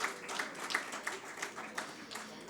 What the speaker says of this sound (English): A huge clapping